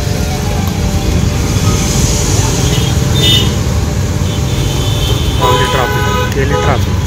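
Busy city road traffic at a Pune signal, with a smart electric bus passing, gives a dense steady roar, and several short horn toots sound near the end; a voice is faintly present.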